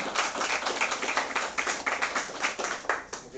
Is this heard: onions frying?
no